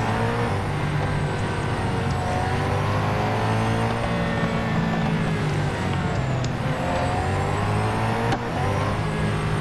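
A Pagani Huayra in the Real Racing 3 racing game accelerates hard, its engine a loud, continuous roar with rising pitch through gear changes, heard alone without talk.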